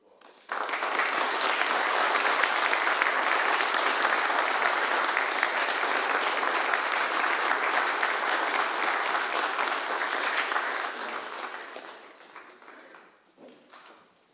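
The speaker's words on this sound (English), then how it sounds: "At this point, we can give a round of applause." An audience at an Eagle Scout ceremony bursts into dense, steady applause that holds for about ten seconds before tapering off into a few scattered claps.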